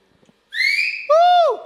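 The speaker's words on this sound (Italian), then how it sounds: "Facciamo ancora fischio?" Someone whistles two short tones nearby, a high sliding note followed by a lower one that bends downward, each loud and clear after a few faint clicks.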